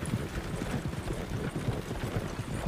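Hooves of a group of horses clip-clop in a quick, irregular stream of close, dull knocks that continues throughout, with no talking.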